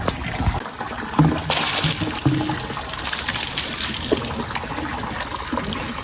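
Water splashing and trickling steadily while farm animals are bathed and scrubbed on a hot day, a continuous close pouring wash throughout.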